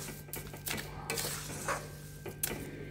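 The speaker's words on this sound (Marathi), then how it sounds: "पाक सुटल्यानंतर परत तूप सुटेपर्यंत त्याला हलवायचं" Carrot halwa being stirred in an iron kadhai: quiet, repeated scraping strokes of a spoon against the metal pan, with occasional soft clinks, close and steady.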